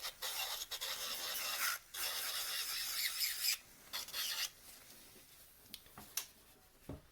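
A hand file rasps over the surface of a Christmas ornament ball in close, scraping strokes, some long and continuous, others short and choppy, with brief pauses between passes.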